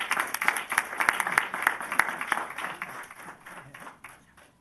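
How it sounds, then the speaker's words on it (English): A small group claps at a mayor and council meeting in Rockville, distinct individual claps audible in a rapid, uneven patter that gradually thins and fades out. "So let's applaud their efforts."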